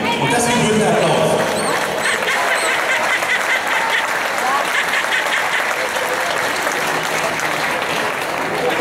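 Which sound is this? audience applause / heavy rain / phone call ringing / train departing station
audience applause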